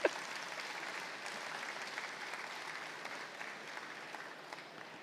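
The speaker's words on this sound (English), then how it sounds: "You're welcome to clap." An audience claps after a talk on transitioning to electric fleets, a steady moderate round of applause from a seated crowd that holds evenly for several seconds before easing slightly.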